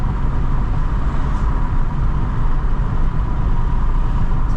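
Passing cars on a road at night, heard from inside a moving vehicle as a steady, loud low rumble of road and engine noise with no breaks.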